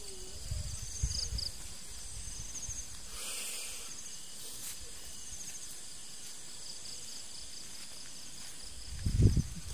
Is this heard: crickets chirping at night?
yes